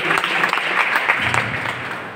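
Audience applause during a certificate and shawl felicitation ceremony, a dense, even wash of many hands clapping throughout with no voice on top.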